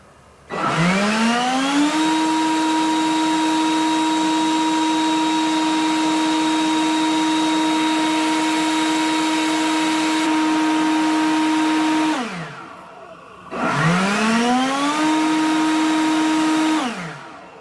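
A Hyper Tough leaf blower with an on-off fault spins up to a loud, steady whine and holds it for about eleven seconds. It winds down, then starts again and runs steadily, close by and with no voices.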